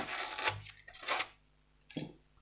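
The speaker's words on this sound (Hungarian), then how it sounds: "fogjuk meg a tűreszelőt vagy a csiszolót, és így pattintsuk ki a habot a helyéről." A needle file or sander scrapes and pries foam loose from its seat in model aircraft wing work, giving three short rasping, rubbing bursts with quiet gaps, close up and with no talk.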